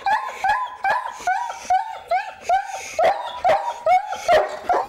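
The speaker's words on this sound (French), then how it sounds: "s'il aboie comme ça, c'est que ça va pas si mal que ça" A dog barks and yips repeatedly in a steady, close rhythm, about a dozen sharp, high-pitched barks in quick succession, during an emergency veterinary home visit.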